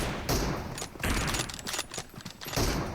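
Gunfire rattles in PUBG Mobile during a tournament match, dense bursts of shots and booms filling the clip, loud and continuous.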